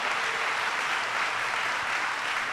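An audience applauds the lieutenant governor at an announcement event in Erie County, a steady wash of clapping filling the whole stretch at an even level with no pauses.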